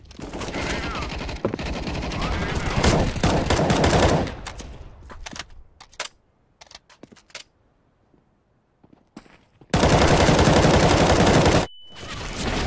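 Automatic gunfire sprays in the CS:GO video game, with loud, dense rapid bursts, then scattered shots separated by near-silent gaps, and finally another sharp sustained burst of fire.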